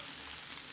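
Onion and cashew paste frying in a pan, a brief, even, faint hiss of sizzling with no voices.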